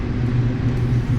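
Audi S3 with a K04 turbo on a dyno, its engine holding a loud, steady low rumbling drone, close and continuous with no talk over it.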